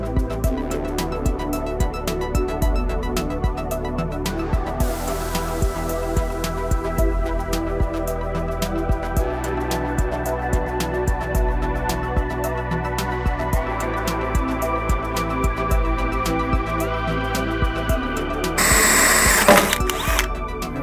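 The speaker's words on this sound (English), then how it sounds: "Now I'm going to come along with my hole saw." A lubricated hole saw bores a thermometer probe port through the metal wall of a Yoder smoker, a loud, continuous whining drill drone with shifting pitch and scraping, running without pause, brief harsher grinding near the end.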